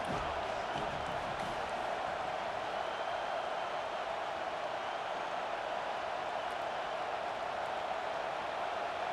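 Steady roar of a stadium crowd in an NCAA college football video game, Tennessee at USC, swelling on a third-and-long defensive play; continuous, loud and dense throughout.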